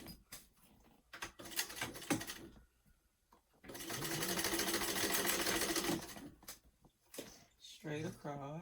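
Sewing machine stitching across a weekender travel bag: a few short bursts of rapid mechanical whirring, then one long steady run of stitching lasting a couple of seconds, with quieter handling clicks and a voice speaking between the bursts.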